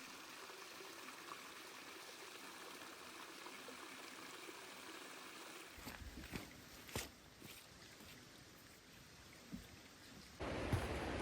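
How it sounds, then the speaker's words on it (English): A large river on the slopes of Mount Marcy in New York flows off to one side, a steady broadband rushing wash throughout, with a few brief knocks and a louder burst near the end. "I'm hearing a pretty big river off to the side over here."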